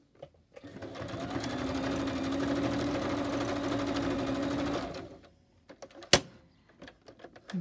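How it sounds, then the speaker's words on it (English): Sewing machine stitching backwards and forwards across an old book page, one steady whirring run of about four seconds, then small handling clicks and a sharp tap, close and fairly quiet. "put it there and stitch backwards and forwards a few times"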